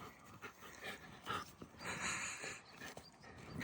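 Dog named Rasta playing with a stone outdoors in the Swiss mountains, breathing in quick rhythmic pants with faint scuffling and small whimpers, close and soft, no talk.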